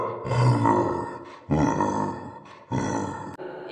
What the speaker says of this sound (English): for gorilla.